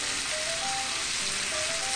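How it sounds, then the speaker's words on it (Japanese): Miso-based sauce hits pork and onions frying in a pan, giving a steady, bright sizzle that holds evenly throughout, close and continuous with no talk. "お肉に火が通る頃には、玉ねぎもしんなりしてくるから、合わせ調味料をザバッと入れて"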